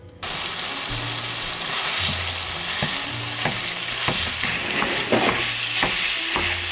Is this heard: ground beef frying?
yes